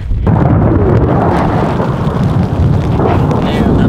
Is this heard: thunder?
yes